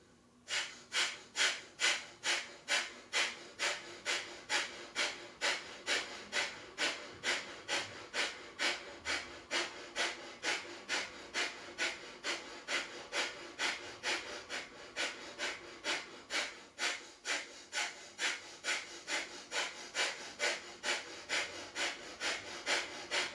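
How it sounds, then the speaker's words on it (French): Kapalabhati breath of fire in a yoga session: a long, steady train of sharp, forceful nasal exhalations, about two per second, close and loud, each a short hissing snort with no talking. "ce dernier round de la respiration du feu, Kapalabhati"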